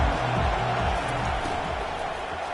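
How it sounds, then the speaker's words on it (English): A dense, sustained roar from a large college football stadium crowd, USC facing Arkansas, rising loud and steady throughout without a break. "listen to this crowd roar"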